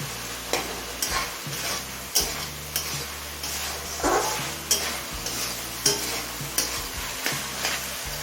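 Chicken stir-fried in a pan over a medium flame, a steady soft sizzle broken by repeated scraping strokes of a spatula against the pan, close and fairly quiet, with no talk.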